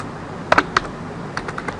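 Several quick keystrokes on a computer keyboard, a burst of clicks near the middle and a few lighter taps after, close and clear with no talking.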